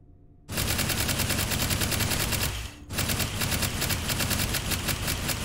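A rapid automatic gun fired from the hip in the VR game Hot Dogs, Horseshoes & Hand Grenades, a loud continuous burst of shots that breaks briefly, then resumes in another sustained volley.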